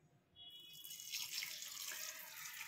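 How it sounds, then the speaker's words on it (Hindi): Cooled water left over from boiling green chilies is poured into a dish, a soft continuous splashing stream that starts after a brief pause and keeps running, quiet and close. "तो इसमें ठंडा पानी ही डालना है।"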